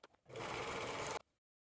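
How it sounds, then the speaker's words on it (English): An overlocker runs in one steady, close burst of about a second, stitching the shoulder and side seams of the front and back bodice pieces of a dress, then stops abruptly. "At this point, you want to overlock the shoulders and sides of the front and back bodice pieces."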